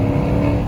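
2020 Dodge Challenger Scat Pack under hard acceleration, a brief, loud, dense engine roar heard from inside the car.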